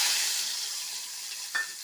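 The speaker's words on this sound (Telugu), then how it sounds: "సర్రుమంటుంది." Garlic, red chillies and fresh curry leaves sizzle in hot oil as a tempering for tomato dal, a bright steady hiss that slowly fades, then a sharp fresh crackle bursts up near the end.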